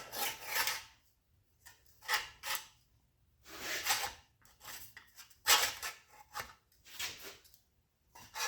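Sheet metal for a rust repair is trimmed and bent by hand in a quiet workshop, giving short bursts of snipping, rasping and metallic scraping separated by pauses, close and fairly faint.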